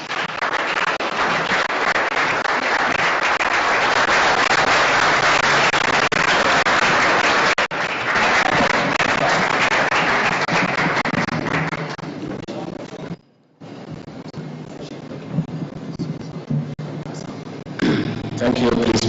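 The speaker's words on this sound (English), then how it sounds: "Please let's welcome him with a round of applause." Audience applause at a formal state event welcoming a Kenyan deputy president, a loud sustained round of clapping that thins out and gives way to speech near the end.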